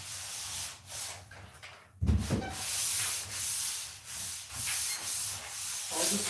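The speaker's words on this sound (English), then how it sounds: "All the screw holes are sanded" Sandpaper rubs over screw holes in wood, giving repeated scratchy hissing strokes in an uneven back-and-forth rhythm, close and moderately loud.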